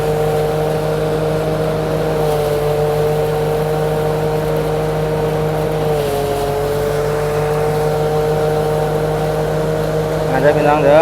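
Tractor engine running steadily at a Thai rice harvest, a loud continuous droning hum with a faint rise near the end, heard under someone talking.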